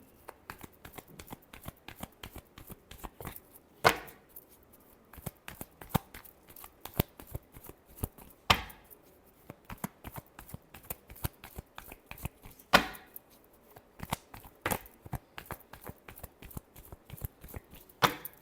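Tarot cards are shuffled with dense, rapid clicking and flicking, a few sharper slaps standing out every few seconds, close and fairly quiet with no talking.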